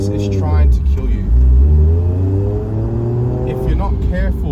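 A high horsepower Toyota Supra accelerates hard, its engine roaring loud and close with rising, sweeping revs and a deep rumbling underneath, the pitch climbing through several gear pulls.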